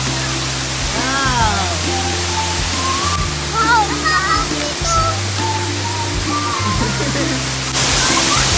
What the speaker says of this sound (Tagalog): Parang may mini falls pa sila dito, no?